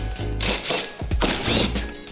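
Power tool driving screws out of the underbody panel of a Volkswagen Golf Alltrack 1.8L TSI, giving loud bursts of mechanical whirring and ratcheting with short pauses between them, up close and with no voices.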